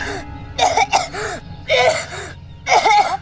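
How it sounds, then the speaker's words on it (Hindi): A sick young man in a period Indian TV drama coughs and clears his throat in three harsh, close bursts, each trailing off into strained breathing, with no one speaking. "खांसते खांसते दम फूल जाता है इसका।"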